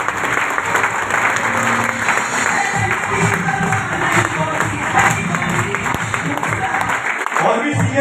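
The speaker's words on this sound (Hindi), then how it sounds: "इन सारे चैंपियंस के लिए एक बार जोरदार तालियां।" Loud, dense audience applause fills a large hall for champions at a network marketing motivational event, sustained and continuous throughout with crowd noise and scattered voices mixed in.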